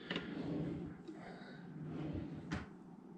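Cabinet drawers with a soft-close mechanism shut in a home kitchen, giving a muffled slide and a gentle thud, then a second soft knock a moment later.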